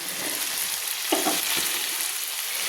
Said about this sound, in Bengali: এইভাবে কিন্তু আমি 2-3 মিনিট ধরে শিমের বিচিগুলো মশলার সঙ্গে আমি কষিয়ে নিচ্ছি।